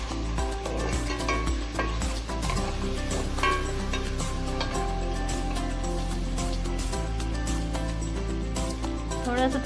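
Ingredients fry in a pan for kadhi, with ajwain added, giving a continuous close sizzle mixed with repeated scraping and clinking as they are stirred.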